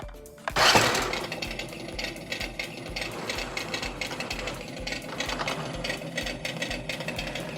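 A New Bright Rhinomite 1/10 scale RC monster truck's electric motor starts with a sharp burst, then keeps up a loud, buzzing, rattling whine that pulses unevenly as the throttle varies, close up, with no talking.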